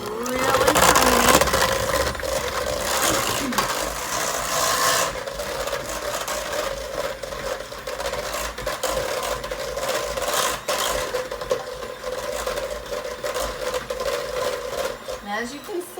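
Electric mixer creaming butter and shortening for a vanilla cake, a steady mid-pitched whir with scraping and rubbing against the bowl, loudest at the start and continuing throughout.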